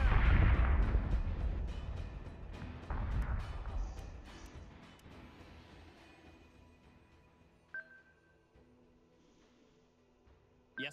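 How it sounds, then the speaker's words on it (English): Booming explosions and missile impacts from a space battle video game, loud rumbling blasts at the start that decay into a fading low roar, with a few sharp bursts later. "Missiles incoming."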